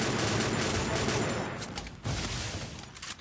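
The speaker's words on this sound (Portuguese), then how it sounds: "Para de atirar em mim desse jeito, miserável." Rapid, dense gunfire fills a shooter video game match, a fairly quiet but continuous rattle of shots with a brief dip and a fresh burst partway through.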